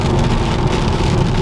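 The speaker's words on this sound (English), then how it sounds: "Oh man, this rain's so loud" Loud Florida rain drums hard and steady in a dense, close roar with no pauses and no voices over it.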